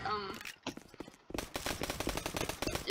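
An automatic gun in the Roblox game Gun Testing fires rapid bursts. Sharp repeated shots start in short, broken bursts and turn into a dense, steady stream of fire, loud and close.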